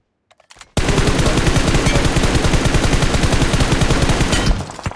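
Rapid automatic gunfire sprays in a video game shootout, a loud unbroken burst of evenly spaced shots that starts abruptly after a brief near-silent moment and runs about four seconds before cutting off.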